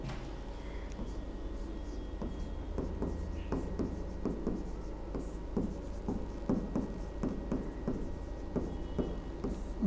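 Pen or chalk writing by hand in a lesson, a steady run of short scratchy strokes and taps, close and moderately loud over a constant low hum, with no talk.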